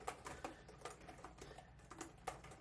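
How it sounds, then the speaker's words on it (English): Keys struck on a computer keyboard at a normal desk, picked up by a Blue Yeti microphone: a quick, uneven run of sharp clicks and taps, fairly faint, with no voices. "How does it sound when we're typing on a keyboard as we would be on a normal desk?"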